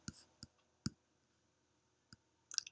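Laptop keyboard being typed on, a handful of sparse, faint key clicks spaced irregularly with a quick double tap at the end, otherwise quiet.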